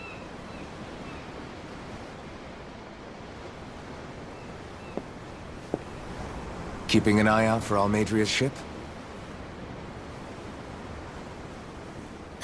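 Ocean waves wash steadily in Tales of Arise, a continuous soft, hissing surf that stays fairly quiet, broken midway by a short spoken line from a character.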